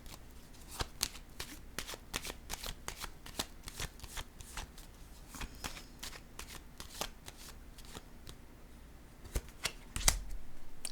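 Tarot cards shuffled and handled close up, a dense run of crisp flicking and snapping card sounds with a louder slap near the end as one is laid down.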